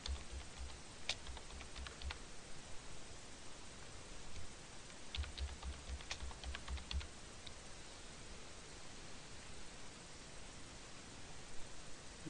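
Someone types an admin email address and password on a keyboard, with quiet clusters of key clicks in two short bursts over a steady hiss of background noise.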